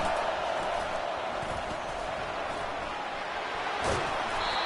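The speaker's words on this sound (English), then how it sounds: "Listen to this crowd just shaking the girders of this place" A football stadium crowd roars in a steady, loud wall of noise, a sustained wash of cheering and yelling with a brief sharper burst near the end.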